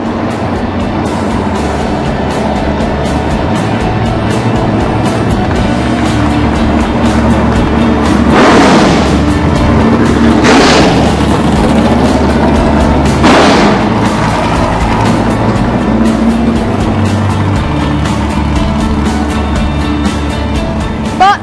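A loud Can-Am race car engine roars continuously, with several sweeping bursts as cars pass close by, rising and falling in pitch.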